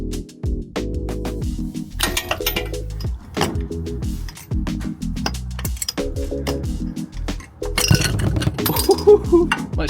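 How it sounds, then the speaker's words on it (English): A metal socket flies off during maintenance on a 2000 Chevrolet Silverado and clatters, giving a series of sharp, close clinks and rattles amid shuffling and tool handling. "My socket just went flying."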